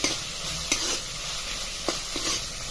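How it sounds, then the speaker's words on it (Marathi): Fresh grated coconut sautéing in a pan gives a steady close sizzle, broken by a few quick scrapes of a spatula stirring it, with no voices. "खोबरं आता असं परतलं"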